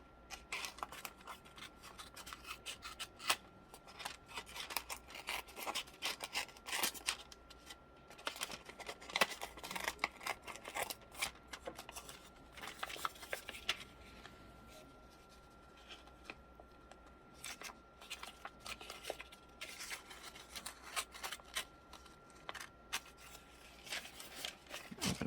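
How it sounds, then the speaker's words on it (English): Scissors cutting down the sides of a paper envelope, a close, quiet series of crisp snips and paper rustles that come in irregular bursts throughout. "And then we will cut down the sides to open the envelope up."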